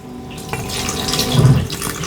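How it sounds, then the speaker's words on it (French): Lukewarm milk poured into a brioche mixture, a short splashing, trickling pour, close and fairly steady, with no voices. "Ensuite, nous allons rajouter du lait tiède."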